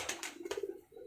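Pigeons, pure almari-type birds kept by a fancier, coo softly in a brief, faint run of low rolling pulses nearby.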